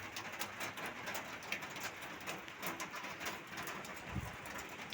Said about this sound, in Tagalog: umuulan sa Kuwait